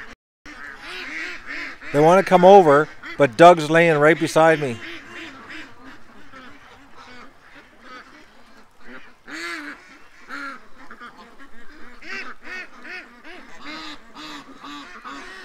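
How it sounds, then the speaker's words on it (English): Geese honk loudly in a noisy cluster, then keep calling more sparsely further off while someone talks nearby. "Oh, look at the geese."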